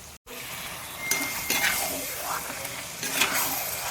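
Chicken curry ingredients sauté in a pan in a village kitchen, a steady close-up sizzle with occasional stirring scrapes and a brief clink after a short pause at the start.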